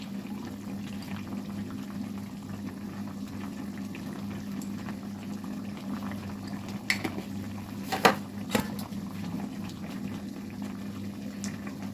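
A pan of fish and cauliflower curry simmers at a steady, soft bubbling boil, close by and alone, with a couple of brief clinks near the end.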